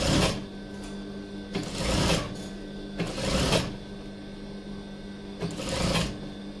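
A sewing machine stitching pleats on a single-frill petticoat, running in loud bursts of rapid, rattling needle action separated by short pauses, close and clear with no talking.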